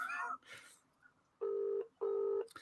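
Telephone dialing tones on a live cold call, two clear steady beeps each about half a second long, preceded by a brief voice.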